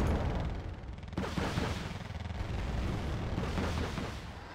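Rockets fire in the Wargame: Red Dragon battle, a continuous dense roar of launches and blasts rumbling steadily throughout, heavy and fairly distant.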